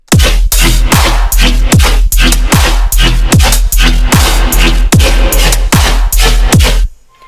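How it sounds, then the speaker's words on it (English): Loud synth dubstep bass hits drenched in reverb pulse in a fast, steady rhythm, each with a dropping low growl, before the sound suddenly stops. "So we just put a reverb on the main bass and just fade it in and stuff"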